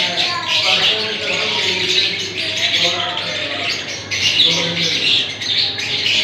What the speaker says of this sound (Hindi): ये देखिए मेरी मम्मी के घर तोते हैं कितने अच्छे हैं।